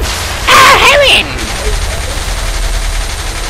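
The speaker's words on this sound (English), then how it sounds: "Explosions and mayhem." Gunfire and explosions in the video game Saints Row The Third: a loud half-second burst of rapid shots and blasts rings out, then a lower steady rumble carries the rest of the way.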